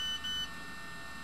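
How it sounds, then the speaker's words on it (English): A mobile phone buzzes with a steady, thin electronic tone during an indoor interview. It is faint and continuous, with a slightly stronger pulse near the start. "That was my phone. That was my phone."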